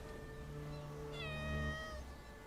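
A single drawn-out cat meow from the video game Bellwright rises and then falls, clear and close, over a faint background hum.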